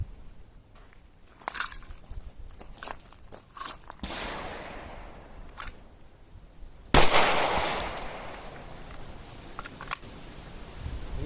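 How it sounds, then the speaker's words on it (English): A SIG Sauer P320 X Carry pistol fires at a shooting range, making sharp, spaced single shots with ringing echoes. Several reports are scattered across the stretch, and a couple of them stand out louder. "I'm going to do some single hand shoots, double hand shoots, and then on the last few rounds"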